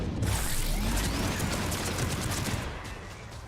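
Gunfire in the video game Mass Effect, a dense, loud rattle of rapid shots and mechanical clatter that continues steadily before easing slightly toward the end.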